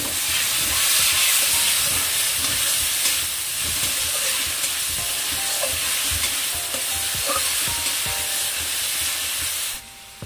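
Fried onions with chopped tomato being stirred in a pan, a continuous loud sizzle with frequent scraping and clinking of the spatula, cutting off abruptly near the end.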